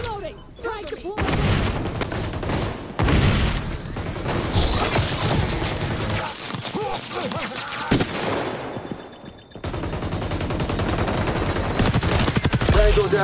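XDefiant video game firefight with sustained rapid automatic gunfire, bursts and booms including a grenade blast, loud and dense throughout, with brief pauses between volleys.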